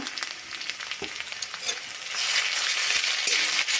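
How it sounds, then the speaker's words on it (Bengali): Ginger-garlic paste and chopped onion frying in oil with steady sizzling and stirring scrapes, the hiss swelling louder and denser midway, with no voices. "আদা রসুনটা একটু তেলে নাড়াচাড়া করে নেব।"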